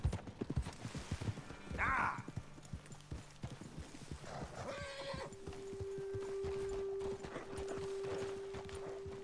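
Horses in the Red Dead Redemption 2 video game clip-clop along at a walk, hooves thudding in an irregular rhythm, with a loud close whinny and snorts partway through and a steady tone lingering underneath.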